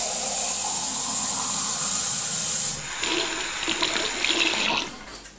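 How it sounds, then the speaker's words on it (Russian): Half a litre of water pouring into a small jar in a kitchen during an induction hob boiling test: a steady, close hissing splash for under three seconds, then brighter gurgling and trickling that tapers off at the end. "Наливаем эту же баночку воды."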